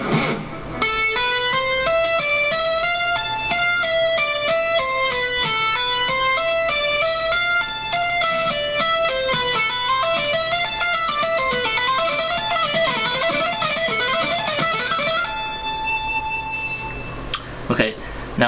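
Rapid, even streams of electric guitar notes cascade up and down in a continuous tapped pattern, bright and close, ending with a short pause.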